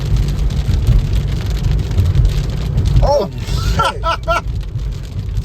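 Heavy rain pours steadily on a car during a severe thunderstorm while driving in Wisconsin, a dense constant wash of sound, with a man briefly exclaiming partway through.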